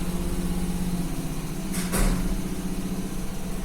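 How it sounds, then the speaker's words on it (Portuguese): A motorcycle passes outside during a live physics class. Its steady engine drone is heard from indoors at moderate loudness, with a brief surge near the middle as it goes by, and the hum continues throughout. "Pausa, que está passando uma moto."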